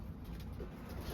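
Racing pigeons coo softly on a loft roof, giving a faint, low, murmuring burr against background noise.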